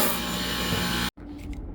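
A utility knife makes a steady, rasping cut through paneling for about a second, stops abruptly, then a quieter scraping resumes close by.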